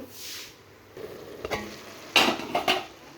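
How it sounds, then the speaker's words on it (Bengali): Cabbage, carrot and garden peas stirred in a frying pan, soft sizzling under scraping clatter, with a few louder utensil scrapes and knocks against the pan toward the end. "ভিতরেরগুলো উপরে করবো, উপরেরগুলো ভিতরে করব। এভাবে নেড়ে নেব, এভাবে নাড়ব।"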